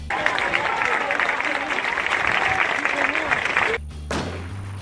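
A crowd claps steadily in the video game Infestation: The New Z, a dense wash of applause for several seconds, then cuts off abruptly into a low game hum.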